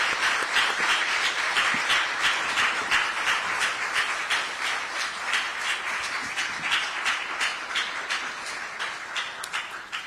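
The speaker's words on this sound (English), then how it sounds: "If we can give our first panelists a round of applause." Applause for panelists at a Senate Select Committee hearing on social determinants of health: a sustained round of clapping from a seated audience in a hearing room, even and moderately loud with distinct claps, easing slightly toward the end.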